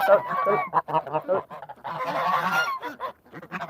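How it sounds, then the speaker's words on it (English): A goose eating corn honks repeatedly at close range, loud bursts of honking with brief pauses between them. "she's a very friendly hen, or goose, I guess"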